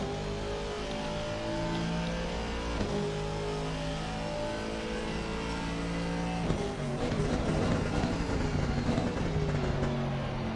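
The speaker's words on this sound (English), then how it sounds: "Bit of an awkward downshift that actually from the Aston Martin." An Aston Martin race car in a racing video game at the Red Bull Ring holds a steady engine drone, then blips through a rough downshift that turns into a harsher, busier rev toward the end, with no talk.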